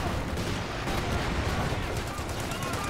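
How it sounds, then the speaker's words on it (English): Machine gun fire rattles in the video game Company of Heroes 2 during urban warfare, a dense, continuous stream of shots and battle noise at steady loudness, with a voice talking over it. "My vet 3 machine gun in here just dealing death"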